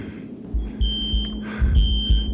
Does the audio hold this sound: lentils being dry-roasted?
no